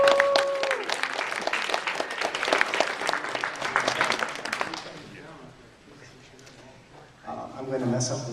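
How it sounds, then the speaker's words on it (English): Crowd applause at the Nebula Awards weekend nominees reception, loud and dense for about five seconds before tapering off, with a voice briefly speaking near the start and again at the end. "Applause afterwards."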